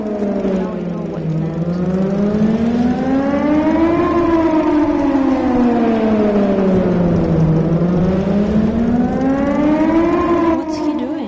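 A loud civil defense siren wails continuously, its pitch sweeping slowly up and down in long rising and falling cycles, heard from an apartment in Bright City while someone briefly speaks over it.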